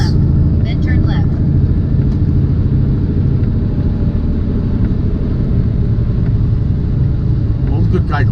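Semi truck engine running rough, a loud, steady low rumble close by with a slightly uneven throb, while people talk over it inside the cab in the rain.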